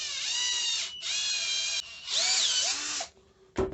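A cordless screwdriver spins wire held in pliers, twisting it into a tight rod: three loud, steady whirring bursts with rising and falling pitch, separated by short pauses, ending in a brief final buzz.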